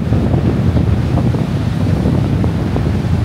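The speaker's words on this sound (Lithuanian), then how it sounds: "Matot kokias bangas. O, ir vėjas." Strong gusts buffet the microphone on a bay shore at a Latvian campsite, with rough waves washing in beneath a loud, continuous roar.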